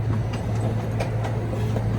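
The Saint Louis Zoo train rolling along its rails, a steady low rumble with a rhythmic clickety-clack of wheels over the joints, heard from on board.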